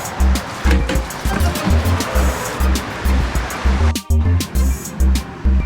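Vinegar rinse drains out of a rusty gas tank in a loud, gurgling, splashing pour with rhythmic glugging surges, close by and uninterrupted.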